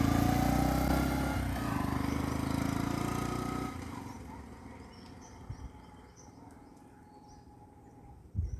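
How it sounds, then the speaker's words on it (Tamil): A motorcycle ride, with a loud engine drone up close that drops off after a few seconds and fades into quieter road and ambient noise, ending with a brief knock. "நான் வண்டியில் போயிட்டு வரேன்"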